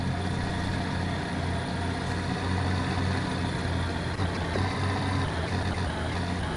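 A heavy diesel engine of an old Ford 1210 truck labors steadily up a muddy forest road while hauling a load, giving a constant loud low drone with no pauses.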